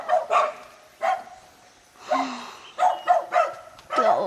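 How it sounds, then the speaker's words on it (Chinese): Four or five dogs bark in short separate bursts around a remote mountain village home in Hunan, some yips and a whimper mixed in, moderately close with brief quiet gaps between barks. "哇，好多狗啊，4、5条狗啊"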